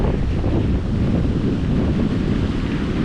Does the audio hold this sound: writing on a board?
no